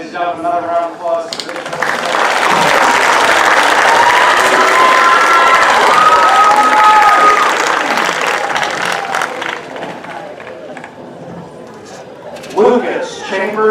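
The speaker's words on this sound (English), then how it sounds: "Ladies and gentlemen, another round of applause." A high school commencement crowd breaks into loud applause and cheering with shouts, swelling after a spoken name and fading toward the end as an announcer's voice returns.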